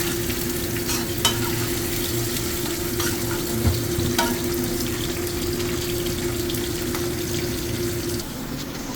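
Fried tofu stirred through salted egg yolk sauce in a pan, a steady soft sizzle with scraping stirring strokes and faint clinks running continuously at close range, no talking.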